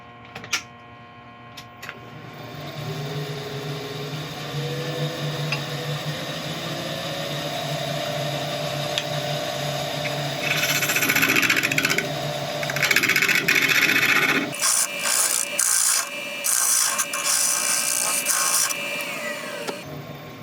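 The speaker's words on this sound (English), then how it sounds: "we're going to go in with a scraper and just start taking away this surface to reveal the logo underneath" A scraper taking away the epoxy resin surface of a bowl spinning on a woodturning lathe, a steady whirring hum of the lathe with scraping rasps growing louder and choppier in the later half.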